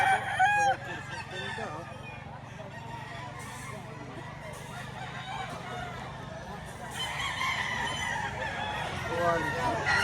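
White Kelso fighting cock crowing loudly up close at a gamefowl market, followed by more distant crows and clucking from other birds, with people talking in the background.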